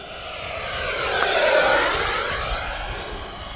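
An FMS F-16C 70mm electric ducted fan model jet flies past at full throttle, a loud, smooth turbine-like whine that swells as it nears overhead and fades slightly as it moves away, with no talking.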